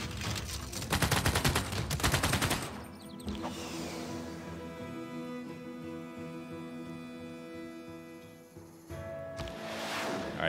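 Gunfire in the turn-based strategy game Civilization 6, a military unit attacking a city: a loud rapid rattle of shots and a volley for a few seconds, then a ringing metallic, mechanical tail, with another burst at the end.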